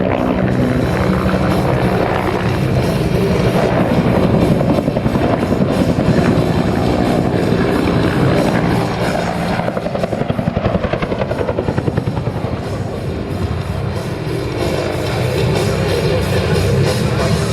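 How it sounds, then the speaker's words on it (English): AH-1 Cobra helicopters of a military demonstration team fly at an outdoor air show, a loud continuous rotor and turbine roar with steady blade chop that swells and eases slightly as they pass. "As the first aircraft pulls off target, the slot Cobra rolls in"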